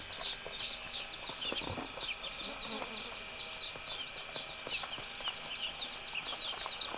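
Dense high-pitched peeping of many Kadaknath chicks, a steady chorus close by with faint voices underneath.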